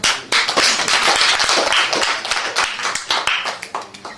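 Dense applause and clapping from attendees of a press conference for a dance stage production, loud and steady throughout with sharp individual hand claps standing out, gradually thinning toward the end.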